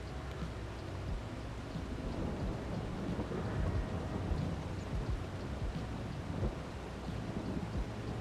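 Steady rain with rumbling thunder in Farming Simulator 22, a continuous dense wash of rainfall with low rolling thunder swelling through, heard alone without talk.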